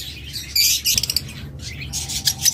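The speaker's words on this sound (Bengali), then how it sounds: "এখানে বেশ কিছু নিউ অ্যাডাল্ট পাখি রয়েছে" Several small birds in a breeder's aviary chirp and squawk in quick, bright bursts close by, overlapping calls coming and going without any talking.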